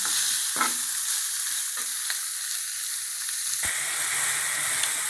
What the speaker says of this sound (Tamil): இந்த தக்காளி நல்லா வதங்கிட்டுங்க